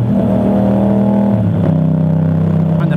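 A Kia car passing on a scenic rural road, heard over a motorbike's steady loud engine drone, its engine tone shifting midway as it goes by close.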